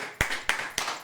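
Three sharp, evenly spaced hand claps ring out close and clear, roughly a quarter second apart, with no talking over them.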